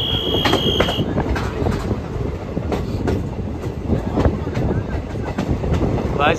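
An electric train rolls toward Qazigund railway station in Kashmir, a steady loud rumble with rhythmic clickety-clack of wheels over rail joints, a brief high whine near the start.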